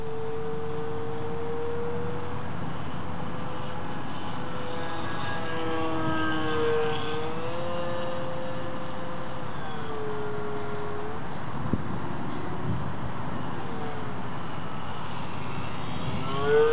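Scratch-built RC plane with an NTM 3548 brushless motor, grindy in flight: a continuous droning whine that shifts in pitch as the plane passes, steady and moderately loud throughout.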